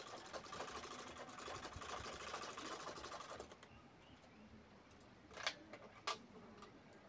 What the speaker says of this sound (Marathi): ते असे एकावर एक ठेवून आपल्याला मध्ये अशी टीप मारायची आहे